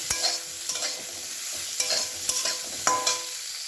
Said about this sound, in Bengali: এই যে কপিগুলো ভাজা হয়ে গেছে আমার